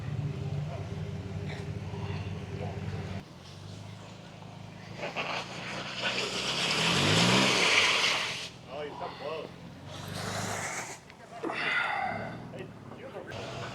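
A Toyota Tacoma off-road truck works its engine over an obstacle at an ORV park after rain, with the engine rising and surging near the middle, fading and returning in bursts, under talk.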